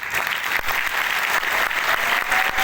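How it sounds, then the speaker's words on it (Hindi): Audience applause at a business seminar, dense steady clapping from a crowd filling the room, moderately loud and continuous throughout with no talk. "जब भी तालियां बजाने का मौका मिले ना तो जोरदार बजाना"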